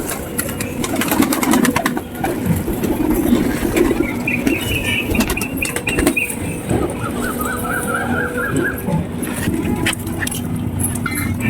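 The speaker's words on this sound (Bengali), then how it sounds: "তো পায়রাগুলো এখন খাচ্ছে" Pigeons being fed in their loft, with continuous close pecking, shuffling and bursts of wing flapping, and a few soft calls over a steady background murmur.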